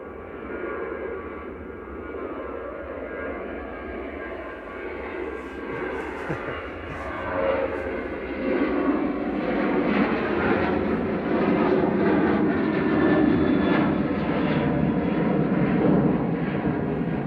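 A Malta Air Boeing 737-800 departing Manchester Airport, its jet engines roaring in a sustained, broadband rumble that builds and stays loud throughout, with faint voices murmuring in the background.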